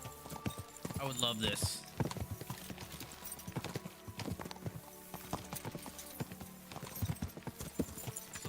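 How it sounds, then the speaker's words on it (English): A horse's hooves clip-clop at a steady walking rhythm while riding through countryside in Kingdom Come: Deliverance II, clear beneath someone talking over the game sound. "riding a horse through a countryside would be dope."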